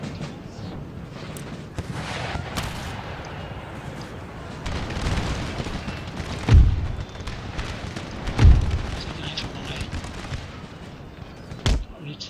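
Artillery and musket fire crack out from an Empire: Total War Darthmod battle, with a few heavy booms standing out over a busy rumble of distant shots and battlefield din.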